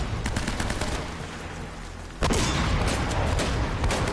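Loud, repeated weapon blasts from a shotgun in the Uncharted video game, dense close booms with a sharp heavier shot midway amid chaotic combat noise.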